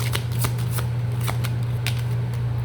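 A deck of tarot cards is shuffled close up, giving a run of crisp riffling bursts at an uneven rhythm. A low steady hum lies underneath, and no one speaks.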